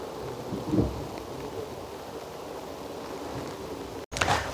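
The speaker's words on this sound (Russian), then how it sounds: "Такая легкая дождливая погода. Вот моросит." Light drizzle falls over a house construction site, a steady soft hiss with a couple of dull bumps and a brief cut near the end, with no talking.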